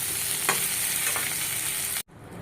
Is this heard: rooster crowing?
no